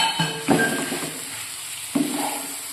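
Mashed potato being worked together with fried, smashed beetroot and carrot in a pan, giving a few soft, close scraping stir strokes over a steady low sizzle.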